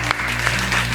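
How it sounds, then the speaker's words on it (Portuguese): Brief burst of hand clapping for a pastor during a Portuguese-language podcast recording, a short dense patter of claps from a small group with a low hum beneath. "Salva de palmas para a pastora."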